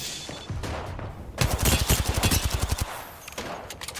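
Rapid bursts of automatic gunfire crack out in Apex Legends, a dense volley of sharp shots lasting a couple of seconds, loud and close, with a few scattered shots after.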